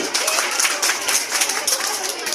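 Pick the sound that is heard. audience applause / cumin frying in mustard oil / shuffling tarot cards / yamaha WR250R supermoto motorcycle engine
audience applause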